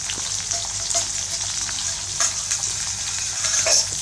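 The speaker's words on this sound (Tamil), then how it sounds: "இது எல்லாத்தையும் போட்டு நல்லா வதக்கணும்." Chilli, onion, curry leaves, chilli powder and half a tomato sauté in a pan for a chicken curry, giving a continuous close sizzle with a few faint scrapes and no talking.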